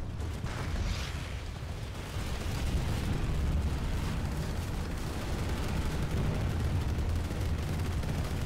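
A frag grenade explodes in the online shooter Planetside 2, a loud broad rumbling blast that fills the clip with sustained booming noise and no voices.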